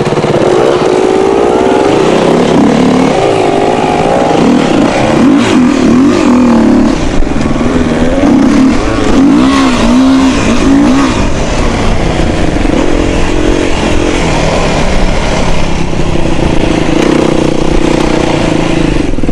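Yamaha TDR motorcycle climbing small gravel rises at a gravel pit, its engine running loud and steady throughout with rising and falling revs and no talk.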